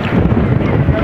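Heavy wind buffets the microphone in a continuous low roar near a boat in Bonaire, loud and steady throughout the short clip.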